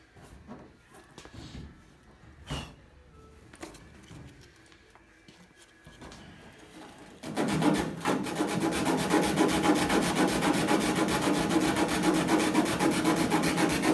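Hood of a Fox Body race car being sanded by hand to fit: a faint, intermittent rasping for the first half, then a loud, continuous scrubbing grind that carries on steadily to the end.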